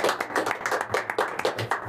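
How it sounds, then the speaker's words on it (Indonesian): An audience at a podcast recording claps, a quick run of fairly quiet, closely spaced handclaps over about two seconds. "Boleh tepuk tangan nih, Mbak Sofar."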